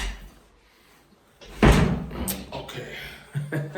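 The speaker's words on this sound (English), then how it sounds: "Let me open the door." A house door opens with a loud thump and rattle partway through, followed by softer handling knocks, in a quiet room with some faint voice nearby.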